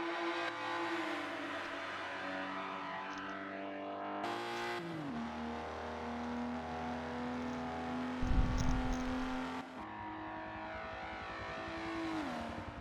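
A race car rounds the final corner of a charity championship race in Dubai, its engine holding a steady loud drone with a brief surge and a gear-shift dip before settling again, close and continuous.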